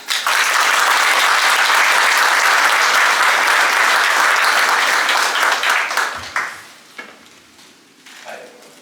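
Enthusiastic audience applause fills a hall as Greg is welcomed to the stage at a disability employment event, loud and sustained for several seconds before tapering off into scattered claps.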